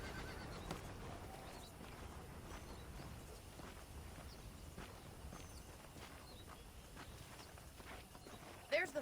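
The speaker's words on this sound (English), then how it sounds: "The horses are saddled up over here." Horses walking with steady clip-clop hoofbeats and an occasional whinny in Red Dead Redemption, set near a foreman's office and jail, heard under low background ambience with speech nearby.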